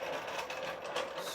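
A Harley-Davidson Sportster engine in the middle of a build, with timing suspected to be off, is cranked by its starter, making a brief, fast, whirring mechanical chatter without a voice.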